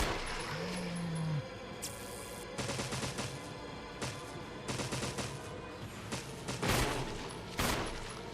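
Gunfire rings out in Resident Evil Remake, several sharp, loud shots spaced irregularly across the scene with a few quick bursts, each cracking cleanly above faint ambient game sound.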